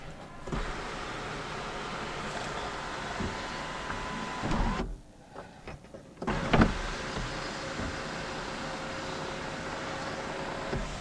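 The electric sunroof motor of a Mazda CX-3 hums steadily as the roof closes, with a brief pause partway through before the whir resumes, heard up close inside the cabin.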